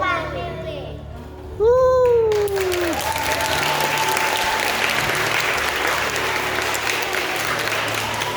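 Audience clapping breaks out at a school Christmas carol service for infant and primary pupils, rising suddenly after children's voices and continuing as steady, dense applause mixed with excited kids' chatter and calls.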